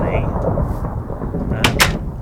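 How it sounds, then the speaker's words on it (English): Thunder rumbles through a Minecraft thunderstorm, a steady loud roar with two sharp cracks near the end. No voices are heard. "And a thunderstorm at the same time."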